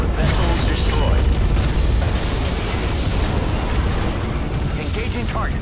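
A starship explodes in the Star Trek Legacy space combat game, a loud, dense roaring blast with crackling debris that stays heavy and sustained for several seconds.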